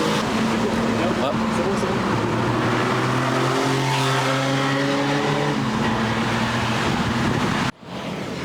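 A Porsche Singer's engine revs nearby in rising, falling sweeps under loud French chatter, with traffic noise throughout before an abrupt cut near the end.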